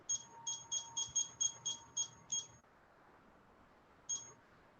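Kitchen timer being set in a home kitchen, a quick run of about nine short, clear electronic beeps, then a pause and one more beep, close and alone against a quiet background.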